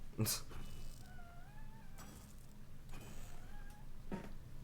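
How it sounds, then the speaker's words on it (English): A house cat meows several times at close range, its rising and falling cries breaking through a quiet room, with a person talking now and then between them. "Sorry, my cat's here"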